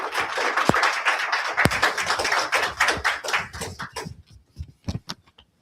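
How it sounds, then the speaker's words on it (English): Audience applause for the panelists at a home-buying and mortgage-lending event: a dense burst of many hands clapping that holds steady, then thins into a few scattered, separate claps near the end. "Please give a hand clap to all our panelists."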